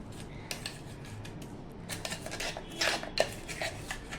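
Kokum chutney scooped out of a mixer jar into a vessel, with scattered light metallic scrapes and clinks of a spoon against steel, growing a little busier and louder toward the end.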